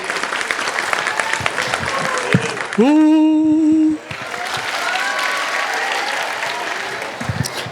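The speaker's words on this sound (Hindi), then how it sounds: "तालियां भी बजाते हैं।" Audience applause at a Hindi kavi sammelan poetry gathering, a dense steady clapping from a crowd that runs throughout, briefly interrupted near the middle by a loud sustained tone with voices beneath the clapping.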